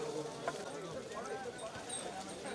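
Hooves of a pair of bulls drawing a cart at full speed in a village bullock-cart race, pounding steadily under loud crowd noise and an excited announcer's commentary.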